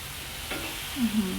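Zucchini and egg being stir-fried in a pan, a soft steady sizzle with a brief scraping stir midway and a louder burst of frying near the end, close and alone without talk.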